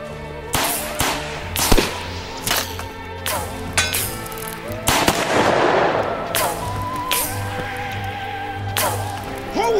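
Gunfire in a Western shootout: a rapid series of sharp, loud shots, some ringing and echoing, fired in close succession with metallic clinks and a brief voice between them.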